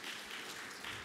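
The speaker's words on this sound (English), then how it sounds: "Please, another round of applause for Miss Elizabeth Mueller for truly, truly" An audience at an awards show applauds in steady, dense clapping, fairly faint and heard alone.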